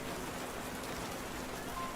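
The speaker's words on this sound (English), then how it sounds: "this constant onslaught of lukewarm rain isn't exactly helping" Steady lukewarm rain falls in the video game Burrows, a soft, even hiss of drops on surfaces that continues without a break.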